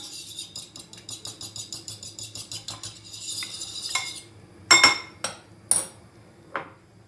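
Egg-lemon mix being stirred into chicken soup in a pot, quick rhythmic metal scraping and clinking of a utensil, then a few sharper clanks against the pot, close up, no voices.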